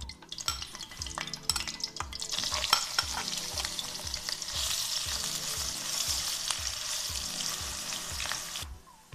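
Chopped ginger dropped into hot olive oil, bursting into a loud, close, steady sizzle after a few seconds of regular stirring taps, the frying holding strong until it cuts off near the end, with no voices.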